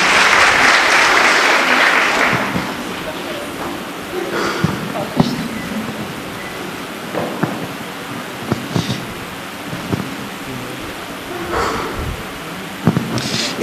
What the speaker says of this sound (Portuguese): Vamos acolher com uma salva de palmas Jonas e Bruna nessa noite de festa